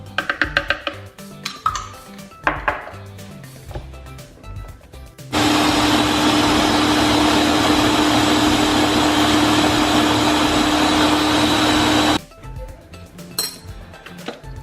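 A kitchen blender whirs loudly for about seven seconds, pureeing chipotle sauce for chicken tinga, with clinks and knocks of dishes and utensils before and after the steady roar.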